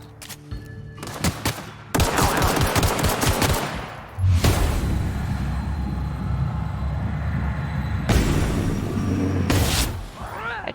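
Gunfire in the video game The Outer Worlds: sharp rapid bursts of shots and then sustained loud automatic fire, with brief gaps between volleys.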